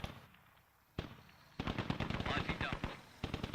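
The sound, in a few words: gunfire exchange in the video game Squad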